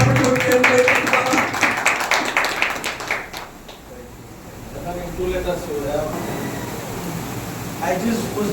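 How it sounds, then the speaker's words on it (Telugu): A congregation at a pastors' meeting in Narsingole claps hands together in a dense, steady burst for about three seconds. The clapping fades into a quieter room where a voice speaks. "అందరూ ఒకసారి చప్పట్లు కొట్టి దేవుని వేడుకుందామా?"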